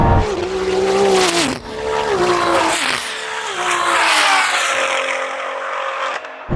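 Modified BMW M140i drag racing a Lamborghini, with a loud engine roar rising and falling through gear changes over about six seconds, close by and sustained, with brief dips between shifts.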